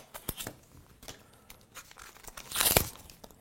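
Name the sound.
opening the packaging of a Dollarama eyeliner pencil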